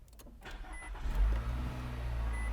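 A Nissan car engine started by holding the key fob against the push start button: a short starter whirr, then the engine catches and settles into a low, steady idle, fairly close and alone.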